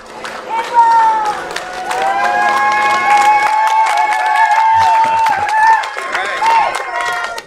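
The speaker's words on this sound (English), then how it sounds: "Small crowd, but big cheers." A small crowd cheers and claps for astronauts walking out before a SpaceX Crew Dragon launch, with whoops, shouts and steady clapping rising and falling over several seconds, near and lively.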